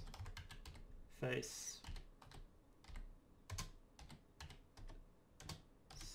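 Typing on a computer keyboard set at an angle, a quiet irregular run of close clicks and key taps with a brief word spoken faintly among them.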